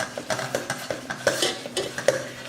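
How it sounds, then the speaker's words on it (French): Pancake batter with beaten egg white being stirred in a bowl, a series of soft knocking and scraping strokes against the bowl at an uneven rhythm, fairly close and with no talk over it. "Là, je touille."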